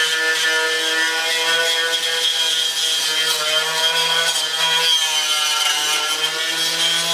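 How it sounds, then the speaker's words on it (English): Abrasive scuffing on the painted floor pan of a 1972 Triumph GT6 under restoration, a continuous close rasping rub with a slightly rhythmic back-and-forth texture and no talking. "I'm just scuffing the paint and making sure there's no more rust anywhere."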